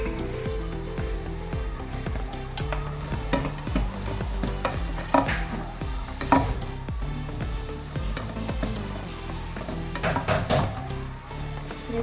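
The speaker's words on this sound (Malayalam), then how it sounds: "ഉപ്പും കൂടെ ചേർത്ത് ഒന്ന് മിക്സ് ചെയ്യാം." A spoon stirs vegetable kurma with added salt in a cooking pot, giving repeated scraping and clinking against the metal with a soft sizzle beneath, over steady background music.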